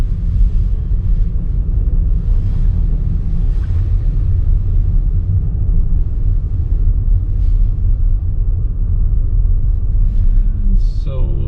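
A keyless-entry car creeps along at about 10 km/h, giving a steady low rumble of engine and road noise that stays even and close throughout, with faint wind buffeting and no distinct events.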